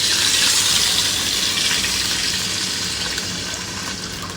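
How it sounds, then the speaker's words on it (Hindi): Water gushes steadily from a tap into a cooking pot, two cups measured in for cooking rice for fried rice, a loud continuous splashing pour that tapers slightly toward the end with no talking. "मैंने 2 ही कप पानी के डाल दिए।"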